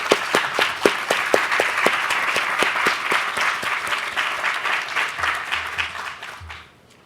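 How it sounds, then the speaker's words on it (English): Audience applause for a construction team at a university building dedication, steady dense clapping with a few sharp claps standing out, holding for several seconds before tapering off at the end. "Please join me in a round of applause for all these people."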